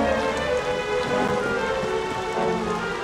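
Steady rain falls and patters on a surface, a dense even hiss with no breaks across the whole stretch.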